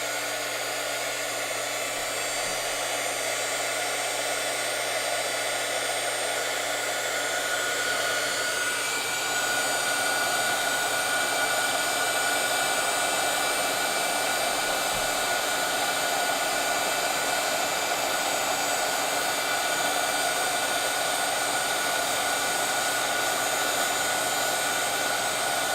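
Heat embossing tool blowing hot air in a steady, loud, continuous whoosh that runs unbroken throughout, its pitch shifting slightly partway, with no talking.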